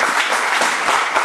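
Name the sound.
congregation applauding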